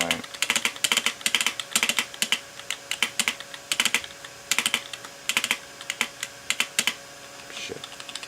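Typing on a computer keyboard while working through a Windows 98 installation, close and crisp: bursts of rapid key clicks separated by short pauses, repeating steadily throughout.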